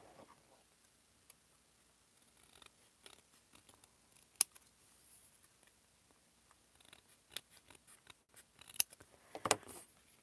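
Scissors cut paper for a junk-journal embellishment in quick, faint, scattered snips and clicks against near silence, close to the listener.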